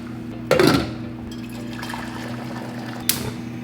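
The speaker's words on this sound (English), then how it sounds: "I just washed some quinoa, like 2/3 of a cup, and I'm adding like 1 1/3 cups of water." Water is poured into a pot holding about two-thirds of a cup of washed quinoa, a short splashing gush near the start followed by a steady low hum and a brief second splash.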